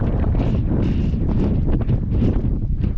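Strong wind at Ramshej Fort near Nashik, India, buffets the microphone in a constant, heavy roar with gusty surges, loud and unbroken, and no one speaking.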